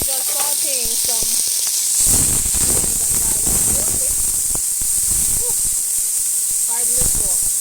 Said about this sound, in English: So now we're gonna do vegetable stir fry. So and we're just sauteing some